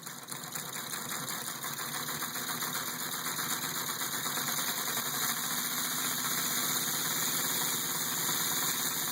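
A model three-cylinder air engine runs on compressed air, a fast, even mechanical chatter and rhythmic puffing at close range, holding steady and smooth throughout with no voices.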